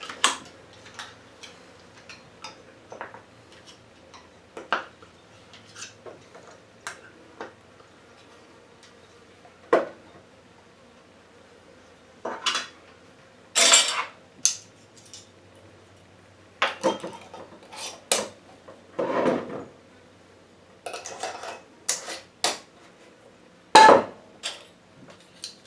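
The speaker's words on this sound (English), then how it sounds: "the only thing we got left to do is put some lids on it" Lids going onto glass jars of moonshine cherries, a scattered series of sharp clinks, taps and clatters at irregular intervals over a quiet background, some louder bursts of rattling in the second half.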